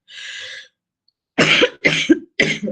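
Several short, harsh coughs in quick succession, close by, after a brief raspy breath.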